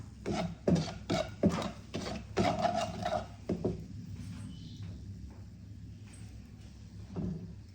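Mustard seeds splutter in hot ghee in a pan, with a rapid cluster of sharp crackling pops that thins out into a quieter hiss with an occasional late pop.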